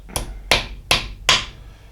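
Four sharp metallic hammer taps, evenly spaced about every 0.4 seconds, seating a pin in the half-nut assembly of a South Bend lathe during restoration, close and clear with no talk.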